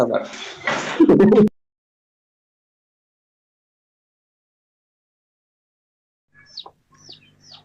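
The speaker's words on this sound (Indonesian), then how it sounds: "Itu suara ayamnya bisa dipelanin dulu nggak Bang?" Someone talks briefly, then after a long silence a chicken clucks in a few short, sharp bursts at a moderate distance.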